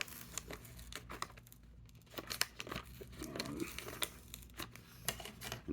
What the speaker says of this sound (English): just keep pulling and peeling, and it just comes right off